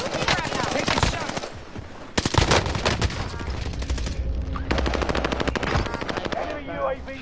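Gunfire in the Warzone video game, with dense rapid automatic bursts and single loud shots in quick succession, close and loud, and players' voices mixed in between the volleys.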